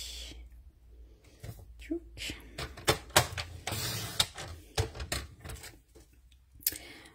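Folded paper card cut on a paper guillotine, heard as a series of close clacks, sliding scrapes and sharp snaps in an uneven rhythm, with soft handling noises between them.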